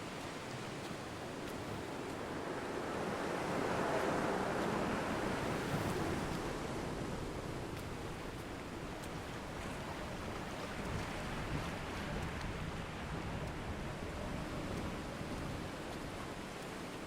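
Wind gusting over a stretch of coast in the game Dear Esther, with surf washing steadily beneath it as a broad, continuous roar that swells slightly then holds for the whole stretch, no voices present.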